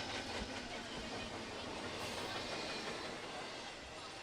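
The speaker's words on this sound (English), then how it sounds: "Little mid-train engine here." A long container freight train rolls past with a mid-train locomotive, a steady loud rumble and rail clatter that fills the whole stretch, with faint crowd noise from a soccer game behind it.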